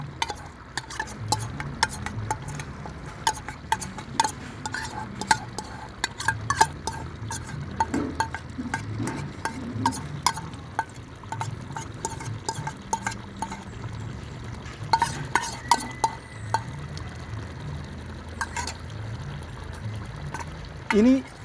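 Chicken curry with cashew paste being stirred and mixed in a pan, with a steady run of spoon scrapes and clinks against the pan and a soft sizzle underneath, close up and without talk.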